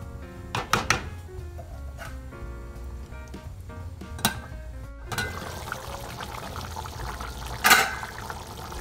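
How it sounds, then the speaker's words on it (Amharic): Boiling water is poured into a pot of Ethiopian kikil, a meatless fasting stew, with a rushing pour toward the end, after some sharp clinks and knocks of kitchen utensils. "ከዛ ቀጥዬ የፈላ ውሃ ጨምርበታለሁ።"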